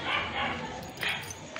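Dogs at night give short yips and whimpering barks close by, several quick bursts over a couple of seconds mixed with a person talking.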